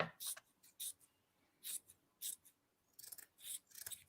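Scissors snip yarn on a Dollar Tree sweater pumpkin craft, a run of short crisp cuts coming in uneven bursts, close and quiet, with no talking.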